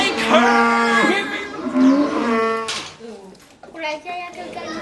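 Cow mooing in a long, drawn-out tonal call followed by a shorter second moo, loud and close, with some child-like vocal sounds mixed in.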